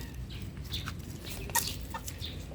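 Free-range Bulik chickens in a backyard cluck softly around feeding time, with scattered short calls and faint chirps over a low, steady background, no talking.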